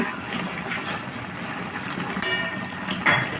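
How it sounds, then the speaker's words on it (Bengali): Water pours into a pot of boiled vegetable curry, a steady rushing splash lasting a few seconds at moderate loudness. "এখন আমি এর মধ্যে জল দিয়ে দেবো,"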